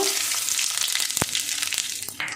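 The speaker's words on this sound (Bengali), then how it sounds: "তেল গরম হয়ে গেছে, এবার আমি ফোড়নের জন্য শুকনো লঙ্কাটা দিয়ে দেব, তেজপাতাটা দিয়ে দেব, একটু গোটা জিরে দেব" Dried red chillies, bay leaf and whole cumin seeds crackle and sizzle in hot oil in a pan, a steady close frying hiss with one sharp pop midway and scattered spits.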